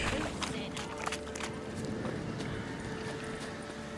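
Roach, Geralt's horse in The Witcher 3, galloping with a steady rapid hoof clatter, close and loud throughout, set against busy game ambience and music.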